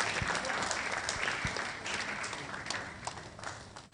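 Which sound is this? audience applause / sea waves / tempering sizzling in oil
audience applause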